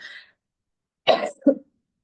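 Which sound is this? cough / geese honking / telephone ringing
cough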